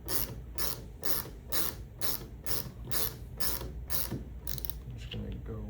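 A portable bearing roller swage tool (MS14103-5) ratchets in a steady series of about a dozen sharp clicking strokes while a bearing is being swaged, close and clear, with no talking.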